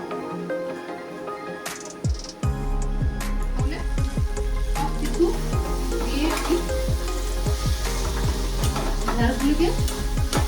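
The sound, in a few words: okra being stirred and frying in a pan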